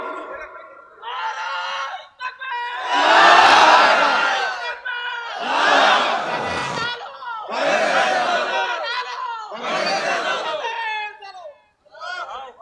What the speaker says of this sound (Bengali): এরকম এরকম তাকবীর